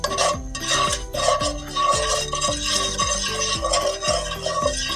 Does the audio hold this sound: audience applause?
no